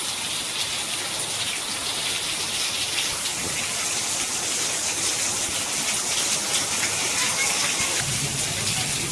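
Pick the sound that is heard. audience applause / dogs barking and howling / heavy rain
heavy rain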